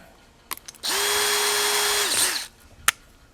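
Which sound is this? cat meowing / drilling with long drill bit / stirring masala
drilling with long drill bit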